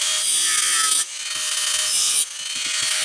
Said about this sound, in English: I'm going to cut this section off.